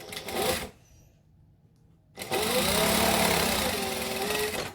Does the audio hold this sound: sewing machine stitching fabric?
yes